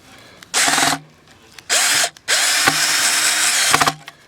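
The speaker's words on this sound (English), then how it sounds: "Just going to self-tap it right through that aluminum" Three bursts of a power drill whirring at high speed, driving a self-tapping screw into an aluminum frame, each running a second or so with short pauses between, close and loud.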